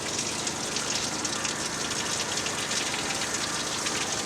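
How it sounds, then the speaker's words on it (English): Water gushes hard and steadily from a hose hooked to an air chuck, a loud continuous rushing spray that holds even for a few seconds with no voices over it. "turn the water on."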